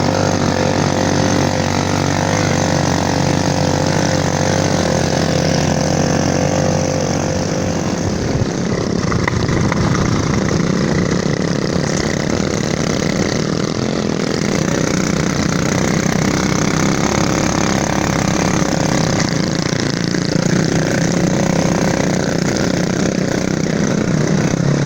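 Several motorcycles run together on a relief trip to an isolated hamlet after the Mamuju earthquake, giving a continuous loud, close engine drone that holds for about twenty-five seconds with slight shifts in pitch.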